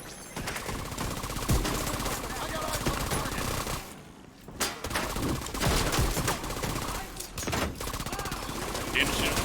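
Sustained heavy automatic gunfire from a minigun in a video game, with dense overlapping bursts and a brief lull before firing resumes, loud and continuous, with voices talking over it.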